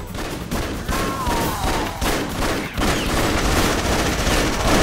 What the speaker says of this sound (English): Stop shooting me, you freak!